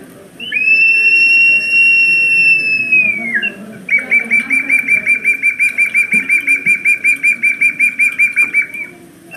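A Chimú ceramic whistling vessel mimicking eagle calls, first one long loud high whistle that bends downward, then a rapid run of about twenty pulsing chirps, close and clear.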